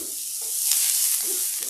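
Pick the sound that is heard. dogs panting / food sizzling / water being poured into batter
food sizzling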